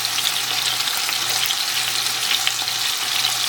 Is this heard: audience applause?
no